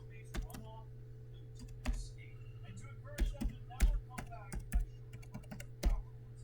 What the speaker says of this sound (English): type in your password